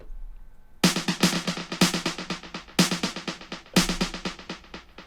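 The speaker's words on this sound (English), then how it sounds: "which is modelled after vintage tape echoes." Synthesized delay plugin in a vintage tape echo mode: a bright, plucky synth phrase of repeated short notes with soft echo tails, recurring in a steady rhythm, played alone and close.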